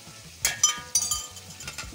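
Peppers, garlic and onion are stirred as they fry in a pot over a kanoun stove, giving a few sharp scraping clinks of the spoon over a soft, constant sizzle.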